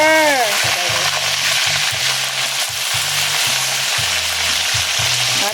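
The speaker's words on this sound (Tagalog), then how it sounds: "Kumukulo-kulo na siya. Daming mantika, guys." Pork belly fries in plenty of hot oil, sizzling and bubbling steadily up close, with a low rhythmic thumping pattern underneath.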